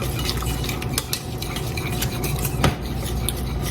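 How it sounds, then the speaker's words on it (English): Melting chocolate for flourless brownies is stirred in a bowl, giving a continuous close scraping and rubbing with a few brief clinks of the utensil against the bowl's sides. "Little part that hasn't melted, just kind of move it to the side, work it around"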